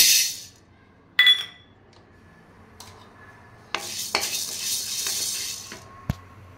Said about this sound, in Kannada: ಇವಾಗ ತೊಗರಿಬೇಳೆ ಹಾಕ್ತಿದ್ದೀನಿ.